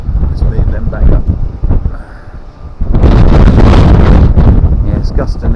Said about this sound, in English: it's gusting again now